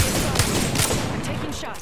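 Rapid gunfire in an Apex Legends match, a dense burst of shots crackling close and loud for the whole stretch.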